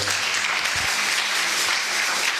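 Steady applause from a crowd fills the whole stretch, dense and continuous clapping at even loudness.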